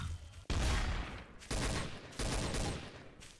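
Gunfire in Trouble in Terrorist Town on the map Nuke Town: three loud, close bursts of rapid shots, each lasting under a second and separated by short gaps of quiet.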